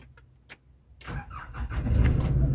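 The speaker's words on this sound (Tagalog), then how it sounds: "pagka pinindot ko itong push start button, tatagalan ko siya ng 1 second" Pressing the push-start button on a Nissan Navara NP300 pickup sets off a few faint clicks, then the starter cranks. The engine catches and settles into a loud, steady running rumble close by.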